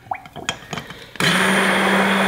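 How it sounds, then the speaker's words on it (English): A stick blender whirs steadily as it whips oil, salt and other ingredients into mayonnaise. It starts abruptly after some faint clinks and handling sounds, then runs as a loud, constant drone, close by, with no talking. "we're just gonna go in with our stick blender"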